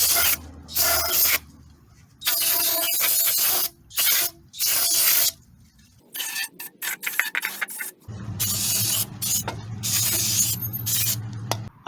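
Spray cleaner blasts onto an engine intake manifold in several loud hissing bursts of a second or so, close up, followed by scrubbing and handling noises and a steadier hiss with a low hum near the end.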